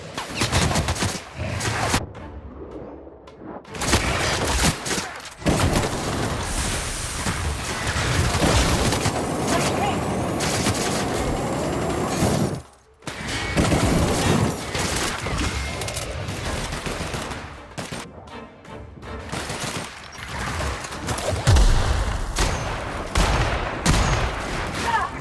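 Rapid bursts of gunfire and firefight shots in the video game The Outer Worlds, loud and dense, broken by brief gaps, with faint character voices mixed in.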